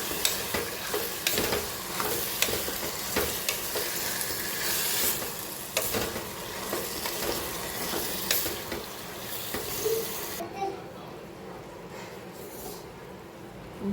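Sliced potatoes and onion sizzle in a hot pan while a spoon stirs and scrapes them, with repeated clattering knocks over a steady frying hiss that quietens toward the end.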